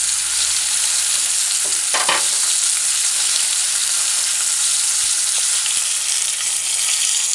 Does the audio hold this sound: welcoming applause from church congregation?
no